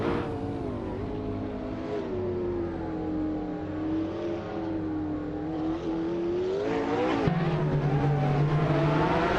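Ferrari FXK race car engine in a racing video game, a steady, loud high-pitched whine that rises and falls as the car revs and shifts, with a sudden gear change near the end.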